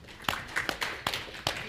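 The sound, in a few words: audience applause for a conference speaker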